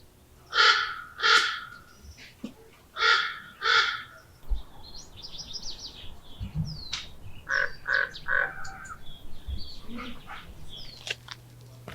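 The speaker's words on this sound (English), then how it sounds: "Okay, so there's like a crow" A crow caws outdoors in spring in two quick pairs of harsh calls, then a rapid run of three more after a pause, fairly close and clear against quiet surroundings.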